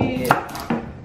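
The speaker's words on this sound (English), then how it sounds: "So I'm going to cut this up." A knife chops through a large cucumber in a home kitchen, two crisp close cuts landing on a cutting board about half a second apart.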